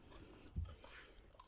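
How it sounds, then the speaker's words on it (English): A German Shepherd crunching and chewing on carrots, with a few soft close-up bites and munching sounds, faint and brief, with a sharper crunch near the end. "He was munching with 2 hands."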